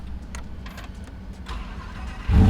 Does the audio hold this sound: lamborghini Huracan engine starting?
yes